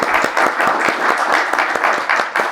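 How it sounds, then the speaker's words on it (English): A live audience at a design festival talk claps in a steady round of applause, dense overlapping hand claps filling the room at even loudness throughout, with no talking over it. "I think I'm going to give you a round of applause for that"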